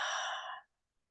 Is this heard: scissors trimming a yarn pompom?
no